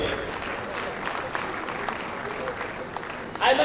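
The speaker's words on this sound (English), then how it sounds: "Ladies and gentlemen, I respectfully ask that we do one big round of applause for these first set of" A crowd at the 40th MTN-SWAG Awards gives a big round of applause for the first set of award recipients. Steady, dense clapping runs throughout, with a louder burst near the end and some background voices mixed in.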